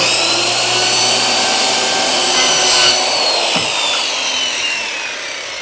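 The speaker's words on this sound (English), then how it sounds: "I've got a skill saw right here." A corded skill saw running off a ZEROBREEZE ElecHive 2200 portable power station cuts through wood, giving a loud, steady whining rasp that holds for several seconds and then eases slightly as the cut finishes, with no talking.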